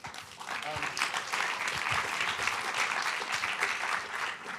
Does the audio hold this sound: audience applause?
yes